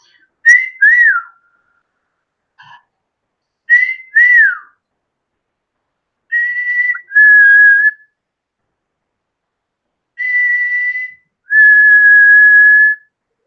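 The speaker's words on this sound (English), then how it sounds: "Mr. Pickles, can you whistle for me?" Clear whistles from a pet come in pairs, rising and falling notes then longer steady tones, separated by short silences, loud and close.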